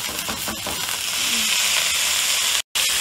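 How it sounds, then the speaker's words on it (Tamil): Soaked jeerakasala rice frying in a pan for mutton biryani, giving a steady, close sizzling hiss that runs through the clip, broken only by one brief dropout near the end. "இப்போ நம்ம இதை ஃப்ரை பண்றோம்."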